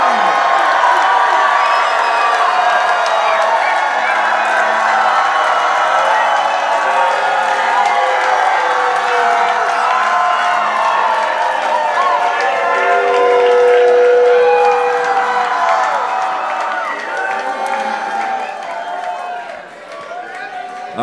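A large live crowd at a beatbox battle final, cheering, clapping, whooping and screaming for a vote: a continuous loud roar of mixed voices and applause that stays strong, then eases slightly near the end.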